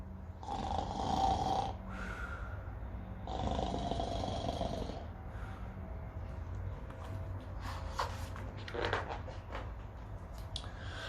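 A reader voicing a bear's snoring in a children's story: long, rasping, close snore imitations in slow repeated breaths, a few snorts, and quieter breathy sounds after.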